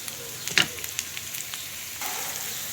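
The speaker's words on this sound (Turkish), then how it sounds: "Şu an soğanlarımı sote ediyorum." Onions sauté in a pan for stuffed eggplant, a steady soft sizzle with a few small stirring clicks, close and fairly quiet with no talk.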